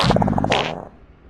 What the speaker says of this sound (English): Did you guys hear the avatars fart?